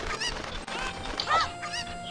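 Cucco chicken clucks from Zelda Ocarina of Time, a couple of quick bird-like squawks over a background of game music.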